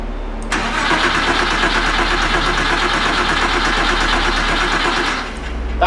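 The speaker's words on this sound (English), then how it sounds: "That sounds like a normal engine turning over." A Porsche 911 engine cranks over for about five seconds without catching, a steady rapid rhythmic churning under a low hum that drops away at the end.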